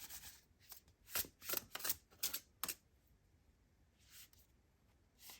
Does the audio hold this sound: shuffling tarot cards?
yes